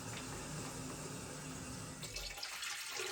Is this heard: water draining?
yes